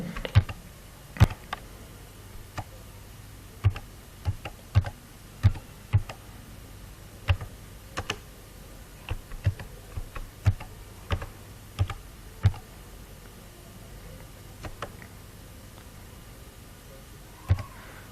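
Sparse, separate keystrokes on a computer keyboard as a name is typed into a document's text box, each sharp click standing alone with pauses between, over a faint steady room hiss.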